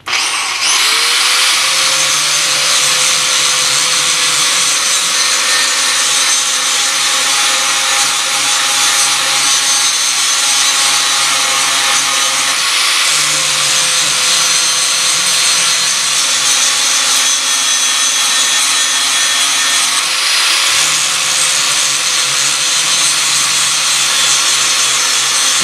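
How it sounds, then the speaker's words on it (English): A bench grinder sharpens a steel lawn mower blade, grinding one side flat: a loud, steady abrasive hiss and whine runs throughout, with the pitch dipping briefly at a few points as the blade is pressed and repositioned against the wheel. "I'm letting the grinder do the work. I'm not forcing the grinder down on the blade."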